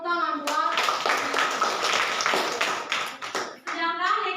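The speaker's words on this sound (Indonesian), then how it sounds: "Oke, tepuk tangan buat" A classroom of students claps together for a classmate during a maths lesson, a brisk patter of many hands lasting a few seconds, with a voice speaking just before and after.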